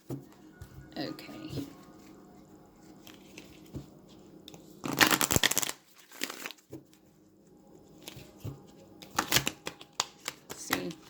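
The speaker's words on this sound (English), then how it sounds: "This is a really difficult deck to shuffle." Stiff cards of a thick tarot deck being riffled and bridged, with bursts of crisp flapping and clacking between quieter handling noises; a person talks softly in between.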